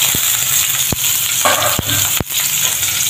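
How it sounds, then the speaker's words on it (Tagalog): Garlic and chili sizzling loudly in a hot pan, a steady frying hiss broken by several sharp scraping stirs of a utensil, close and without talk. "Tapos saka natin igisa ang bawang at sili."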